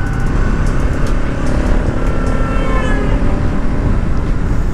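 A 2024 Bajaj Pulsar NS 200 motorcycle ridden in fifth gear, with a loud, steady engine drone and heavy wind and road rumble continuing close and unbroken throughout.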